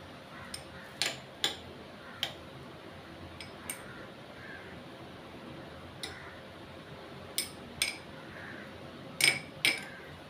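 A spoon clinks and ticks against a bowl while tutti frutti is stirred with food colouring, giving sparse, irregular light clicks over a quiet room background.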